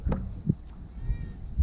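A cat meows a couple of times in short, close calls over wind noise outdoors on a rural smallholding.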